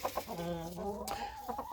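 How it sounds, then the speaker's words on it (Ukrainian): An aggressive rooster among egg-laying hens in an autumn farmyard gives a drawn-out, harmonic call with a few short clucks around it, close and fairly loud. "Півень при... прибіг сюди. Хотів напасти на мене щойно."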